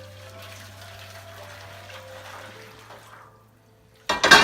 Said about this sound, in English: now we take the boiling water and put it in our pan.